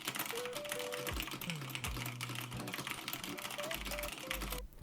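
Touch-typing on a computer keyboard, a rapid, steady stream of close key clicks with occasional heavier thumps, alone without talk.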